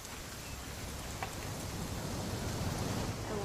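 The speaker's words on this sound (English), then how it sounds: "It's gonna rain the whole weekend," Steady rain hisses without a break over the whole stretch in the game What Remains of Edith Finch, an even, close wash with no voices.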